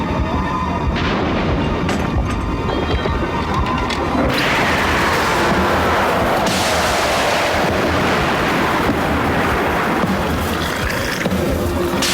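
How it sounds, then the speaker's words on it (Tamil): Sudden strong stormy wind roars as a dense, continuous rush that surges louder and brighter about a third of the way in, then stays loud and blustery to the end, with no speech. "என்ன இப்படி திடீர்னு காத்தடிக்குது?"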